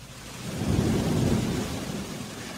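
A thunderstorm at night, with a heavy rumbling thunder crash that swells and rolls on over steady rain, alone with no voices.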